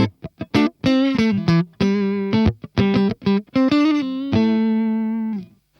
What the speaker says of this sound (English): here it is, just the clean sound.